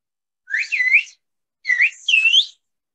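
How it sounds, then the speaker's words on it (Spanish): Silbo herreño, the whistled language of El Hierro, performed as two clear, sharp whistled phrases with sliding pitch, close and alone against silence. "así es como es el lenguaje silbado en la Isla del Hierro"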